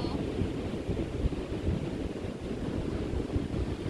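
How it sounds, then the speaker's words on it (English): Ocean waves crash continuously on a beach while wind buffets the microphone, a steady, close roar of surf and gusts with no pauses. "I can hear the ocean waves crashing behind me."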